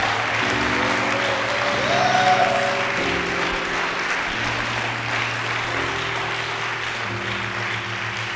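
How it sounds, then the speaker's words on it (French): A church congregation claps and cheers loudly and steadily throughout, with sustained keyboard or organ chords playing underneath. "Donnez-moi des acclamations encore à Jésus."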